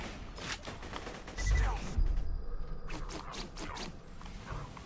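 The Two Fang gun in the Borderlands 2 video game fires in rapid, repeated bursts at moderate volume while someone talks over the shooting.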